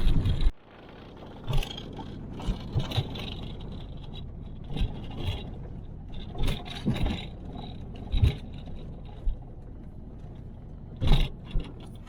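A car labors uphill over wet, muddy and rocky off-road ground after heavy rain near Eskisehir, a low engine drone broken by repeated bumps, knocks and scraping thuds as it crawls along.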